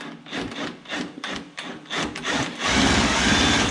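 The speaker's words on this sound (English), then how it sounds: "make sure you use a perfectly good spring compressor" A spring compressor worked on a VW Beetle coil spring produces rhythmic metallic scraping and ratcheting strokes close up, speeding into a continuous grinding whir near the end.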